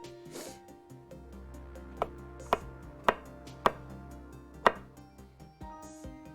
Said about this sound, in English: just cut this down really fine